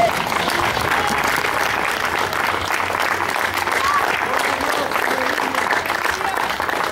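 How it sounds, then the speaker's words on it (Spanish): A church congregation applauds loudly and continuously in praise of Christ after a sermon, a thick crowd roar of clapping with voices mixed in, steady throughout. "Dale un fuerte aplauso a Cristo."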